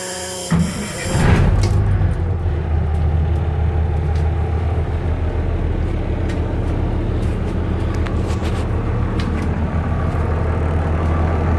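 A 1981 Crown school bus engine cranks and catches, then settles into a loud, steady low rumbling idle close by, running on without talk.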